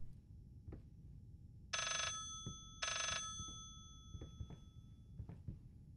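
A telephone rings twice in the horror video game Layers of Fear, two loud bright bursts about a second apart over a low ambient rumble and scattered soft knocks.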